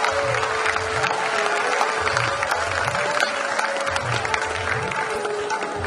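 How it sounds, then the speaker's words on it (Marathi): Loud, steady applause fills a hall at an inauguration ceremony marking the release of a souvenir book, a crowd clapping continuously with occasional cheers mixed in. "आपण त्याला जोरदार टाळ्या वाजवून अभिनंदन करणार"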